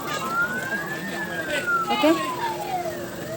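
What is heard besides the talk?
ambulance siren passing on a hiking trail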